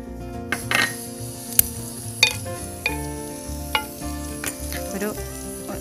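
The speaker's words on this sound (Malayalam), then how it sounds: "ഇത് ഗീ ഒന്ന് ചൂടായ ശേഷം കറവപ്പട്ടയും ഗരം മസാല ഒന്ന് ചൂടാക്കിയെടുക്കാം." Cinnamon and garam masala sizzle steadily in hot ghee in a pan, with a spoon stirring and a few light clinks against the metal, close by and with no speech.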